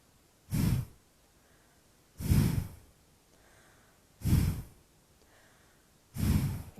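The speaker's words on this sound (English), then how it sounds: "Take an inhale." Four slow, deep breaths in a guided yoga breathing session, each a close, soft rush of air lasting about half a second, spaced roughly two seconds apart with quiet between them.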